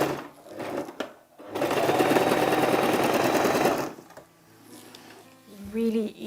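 A sewing machine runs steadily for a couple of seconds, locking the stitch at the end of a deep double-fold hem on a kaftan dress, with brief quieter pauses and soft handling noises before and after.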